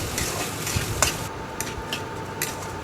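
Dried rice stirred in a pot for sweet basanti pulao, with a soft gritty sizzle broken by a few sharp scrapes and taps of the spoon, close up.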